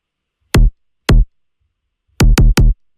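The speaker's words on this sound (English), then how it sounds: "That's actually what the kick is." Electronic kick drum sample in a music production session, five punchy hits in an uneven pattern: two spaced single thumps, then a quick triple burst, loud and dry with no talking.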